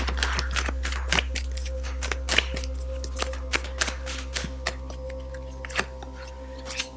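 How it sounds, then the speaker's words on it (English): Tarot cards being shuffled by hand, a rapid run of soft papery flicks and taps over a steady low hum, close and fairly quiet, with no talking. "Let's do a quick little shuffle here and get the finance cards out."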